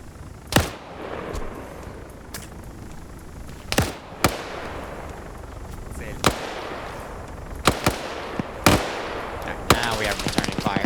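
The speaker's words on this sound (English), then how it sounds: "now we have returning fire" Gunfire is traded in a military video game, with sharp single shots and short bursts cracking out irregularly, some loud and close, others more distant. Background noise runs between the shots.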